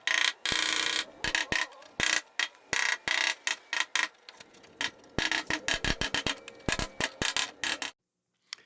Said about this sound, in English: I'll take my hammer and I'll tap against it to flatten and straighten the metal.